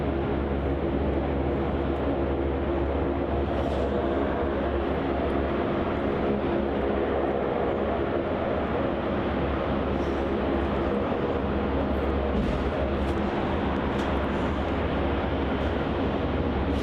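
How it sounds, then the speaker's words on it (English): Virgin Australia Boeing 737 lining up on runway 34 at Melbourne Airport, a continuous loud jet engine rumble and hiss heard from a distance, steady throughout. "So turning on the runway 34 now is that Virgin Australia 737 heading up to Sydney."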